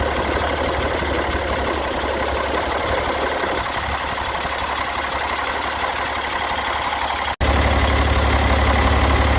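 A John Deere engine in a log loader idles loudly and steadily close by, its low drone continuing throughout with a brief dropout and a slightly deeper tone afterward.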